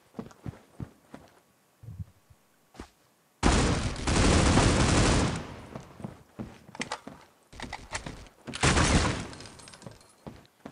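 Bursts of automatic gunfire in the mobile shooter Critical Ops, loud sustained volleys broken by short gaps, with scattered single shots and impacts between them.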